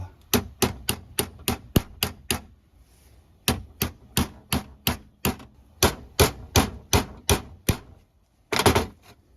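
A 16mm socket taps a GX470 differential actuator part into its seat, giving a steady run of sharp metallic knocks in quick bursts with brief pauses, close and clear with no talk.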